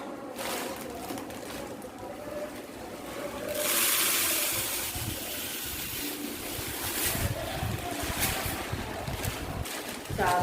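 Rice pours from a packet into a large tin container in a long, rushing granular hiss that swells and settles, heard close with some faint background noise.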